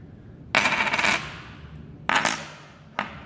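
An old Thai coin rings after being struck or dropped, with three metallic rings heard alone: two longer bright rings with a shimmering decay, then one short final clink.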